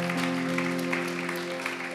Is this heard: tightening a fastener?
no